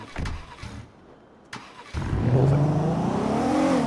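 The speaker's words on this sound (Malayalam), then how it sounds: "എഞ്ചിൻ പടി വന്ന ഡിഫൻഡറാണ് കേട്ടാ." A Land Rover Defender engine starts with a short burst, then revs up and holds a loud, steady drone with rising and falling pitch.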